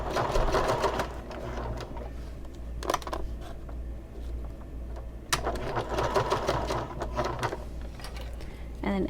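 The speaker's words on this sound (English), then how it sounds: "Then I'm just going to keep sewing over the handle," A sewing machine stitches over a fabric bag handle in bursts of fast close whirring and clatter, with pauses and handling noises between runs and a voice talking in places.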